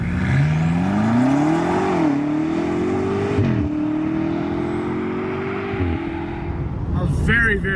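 A Dakar Yellow BMW M8 Competition, all-wheel drive with 617 horsepower, accelerating hard; the engine note climbs through gears with shifts around three and six seconds, loud and close, with a voice near the end.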